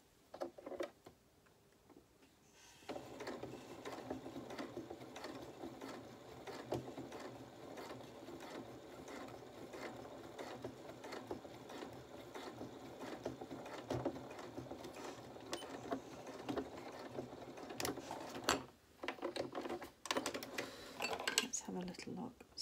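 A sewing machine runs in a steady, close whir with fine ticking as it stitches a seam along a facing and seam allowance on a small polka dot doll dress, backstitched at each end, with a voice talking over it.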